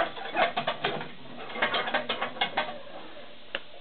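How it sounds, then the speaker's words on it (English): Clanking from a chipper/shredder wheel turned over by hand, its three internal fingers passing through grooves during a motor repair: a quick run of irregular metallic clanks and rattles, fairly close, with no talking. "on the wheel inside there's three fingers that go through those grooves, so you're going to hear those clanking in there"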